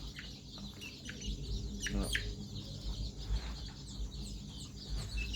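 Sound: laying hen chicken clucking

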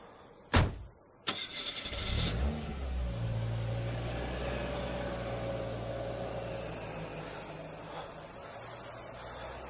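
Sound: car engine starting

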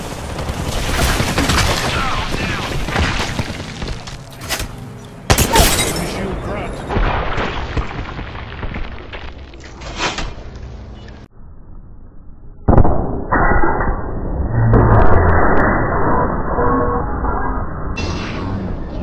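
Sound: gunfire in the video game Apex Legends

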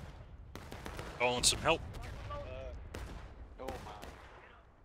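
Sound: musket gunfire in video game War of Rights

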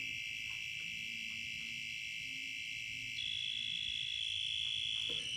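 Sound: two-pole voltage tester beeping on a proving unit

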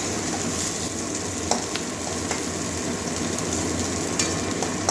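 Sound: onion frying in a pan

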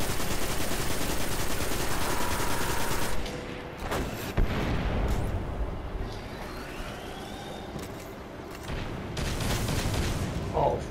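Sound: gunfire from the video game Destiny

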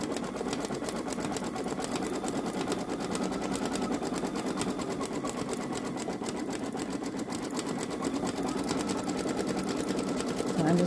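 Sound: Babylock Solaris embroidery machine stitching out letters

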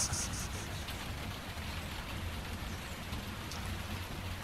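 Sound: heavy rain

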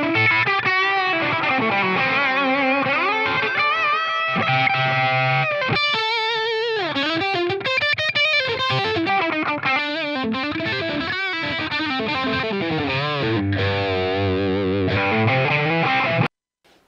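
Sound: guitar tones through Line 6 Helix effects

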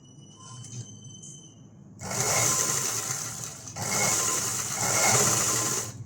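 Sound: sewing machine stitching folded fabric tucks

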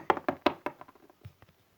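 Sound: knock on a door

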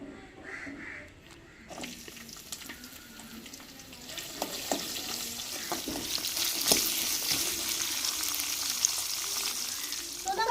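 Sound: chopped onions and dried chillies frying in a pan

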